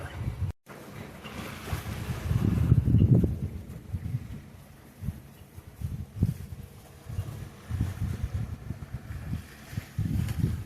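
Sailboat under sail at sea on a fine day, with steady broadband wind and water rush, low rumbling gusts and wave wash, and wind buffeting the microphone throughout; no speech.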